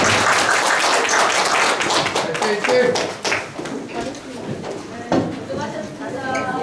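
Clapping at a women's group press conference and protest: a crowd claps briskly and unevenly, with voices talking over it as the applause thins out.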